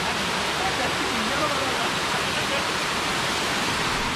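Lalthane waterfall, swollen by monsoon rain, pours in a steady, loud broadband rush close by, with no break for the whole stretch.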